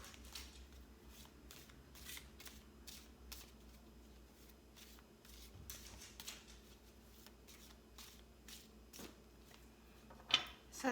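Tarot cards shuffled by hand in a series of quick, crisp riffling bursts, fairly close and soft, with a sharper snap of a card being drawn near the end.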